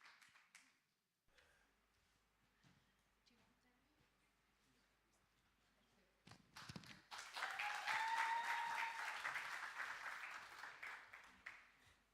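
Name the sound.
audience applause welcoming a speaker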